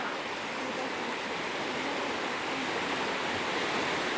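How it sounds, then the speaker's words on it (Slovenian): River flowing through the town of Prizren, Kosovo, a constant broad rush of moving water, steady and fairly loud with no speech over it. "Skozi Prizren teče taka lepa reka."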